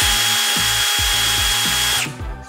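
A power drill spins at high speed with a loud, steady whine and rhythmic thumping, close up, cutting off abruptly near the end.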